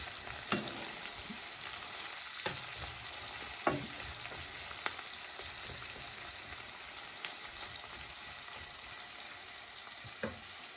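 Chopped onion and grated carrot frying gently in a pan, a steady close sizzle with a few soft clicks of stirring scattered through it and no voices.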